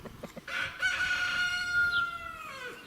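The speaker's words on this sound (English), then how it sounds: "You poor old beaten up rooster there" An old, beaten-up rooster crows once in a long, drawn-out call, preceded by a few short clucks, fairly close and clear.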